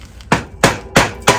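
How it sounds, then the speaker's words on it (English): A rubber hammer strikes four times at an even pace, knocking out the Rotor BB30 bottom bracket on a Specialized Diverge bike; each blow is a loud, close, sharp thud with a short decay. "I'm going to have to get the rubber hammer to do that"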